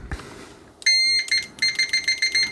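A T58C budget multimeter in continuity mode, tested with Probe Masters probes, sounds a loud, high electronic beep: one long steady tone, a short pause, then a quick run of clipped repeated beeps, with no talking.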